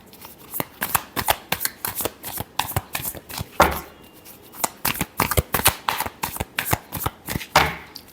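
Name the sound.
shuffling tarot cards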